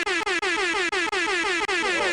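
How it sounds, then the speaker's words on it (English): A loud blaring air horn sound effect sounding in rapid repeated blasts, each separated by brief gaps, close and harsh with no other sound. "I got an air horn."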